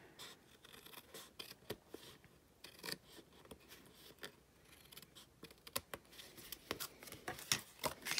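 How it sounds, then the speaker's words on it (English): Scissors trimming the overhanging edge of a Stampin' Up! pop-out card, giving a quiet series of close, crisp snips and scratchy paper cuts in irregular rhythm with no one speaking. "so I'll just trim that side"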